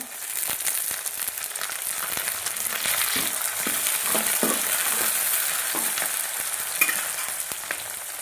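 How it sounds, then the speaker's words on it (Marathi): Green chili and curry leaves sizzle steadily in a hot pan for sambar, a continuous bright frying hiss with scattered crackles and the occasional stir, close and fairly loud, with no talking. "आता ह्याच्यामध्ये हिरवी मिरची टाकणार आहे कढीपत्ता"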